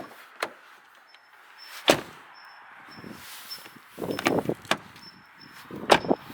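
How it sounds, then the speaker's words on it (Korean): The rear door of a Hyundai Tucson 1.6T opens and closes several times, giving sharp isolated thuds with a slightly tinny, hollow quality and small latch clicks in between. "2열은 문을 열고 닫았을 때 살짝 텅텅거리는 소리가 들리더라고요"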